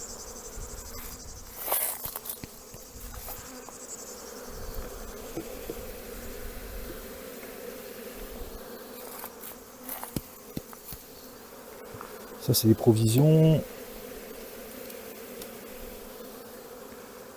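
Honeybees buzz around hive frames while nuclei are joined for wintering, a steady close drone with brief louder swells and handling knocks, and a person speaks briefly.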